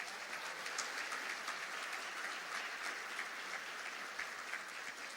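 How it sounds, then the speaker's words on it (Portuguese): A church congregation claps together to welcome a pastor, a dense, even wash of applause that holds steady throughout, heard from within the hall at moderate level. "Receba com uma salva de palmas para Jesus"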